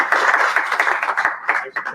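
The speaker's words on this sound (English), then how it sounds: "A big applause, please." Audience applause at an online no-code community event, a brief burst of dense, close clapping lasting about two seconds.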